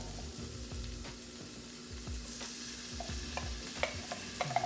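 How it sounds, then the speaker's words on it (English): Onions, tomatoes and garlic sauté in a pan for a sausage pasta, a soft low sizzle under repeated spatula stirring and scraping, with a low steady hum and sharper clinks toward the end. "saute some onions, tomatoes, and some garlic"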